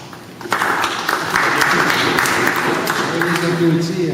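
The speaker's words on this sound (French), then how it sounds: "On les applaudit en l'absence" An awards-ceremony audience at a Montreal chess open applauds steadily for about four seconds, dense clapping filling the room with some voices mixed in.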